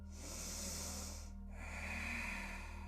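Deep breathing during a morning yoga session comes close and clear: a long airy inhale, a short pause, then a second drawn breath, over a steady low background hum.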